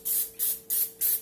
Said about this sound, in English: I'm just going to spray some olive oil on here